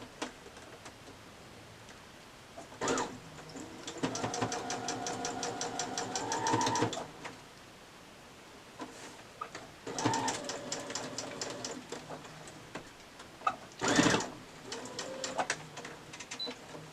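A sewing machine stitching quilt pieces together in a quiet room, rapid mechanical rattling in several short runs separated by pauses and clicks.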